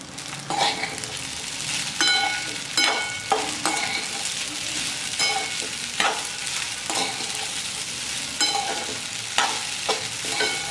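Sago pearls go into a pan with green chillies over a low flame and are stirred, giving a steady sizzle punctuated by repeated scraping spoon strokes, close and without voices.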